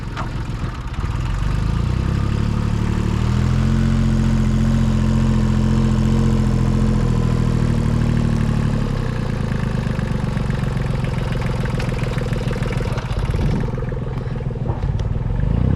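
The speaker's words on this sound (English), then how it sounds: "Here's an action shot of Jerry on the tractor moving some dirt." A steady, loud diesel tractor engine chugs and idles close by while moving dirt, with a low clattering rumble that shifts slightly in pitch partway through.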